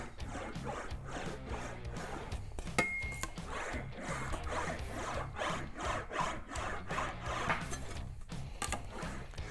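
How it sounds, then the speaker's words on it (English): An English wheel rolling back and forth over a sheet metal panel to fix oil canning, a continuous rhythmic rasping and rubbing with faint metallic ticks, fairly quiet and steady throughout. "panel's even kind of moving as I wheel it here."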